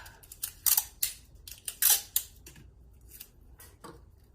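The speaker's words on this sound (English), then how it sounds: "I'm going to tape the side of my baggie just so it doesn't move or dance around too much" Tape being pulled and handled to secure the side of a plastic baggie during an elementary art lesson, giving a string of sharp crackling rips and taps of uneven length, fairly close, with no talking.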